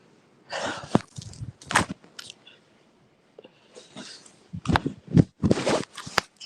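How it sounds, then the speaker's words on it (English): Someone blows their nose in several short, forceful bursts broken by pauses, close to the microphone, with snuffling and breathy sounds between the louder blasts. "hold on, I need to blow my nose."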